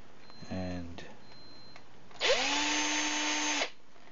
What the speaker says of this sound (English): So I'm going to take the drill and the drill bit that I made these holes with,